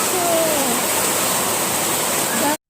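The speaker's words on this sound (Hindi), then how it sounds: "ये देखो तो कितना बारिश आ रहा है" Heavy rain falling outside a window gives a dense, even rushing wash that stays loud and unbroken for a couple of seconds before cutting off abruptly.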